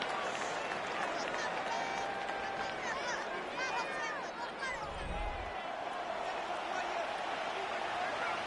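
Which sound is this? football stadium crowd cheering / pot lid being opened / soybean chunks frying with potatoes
football stadium crowd cheering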